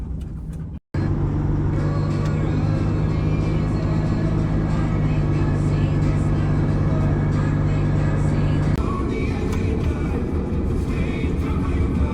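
A truck driving along a road at steady speed, with a continuous low engine drone and road rumble close up inside the cab. The tone shifts slightly partway through.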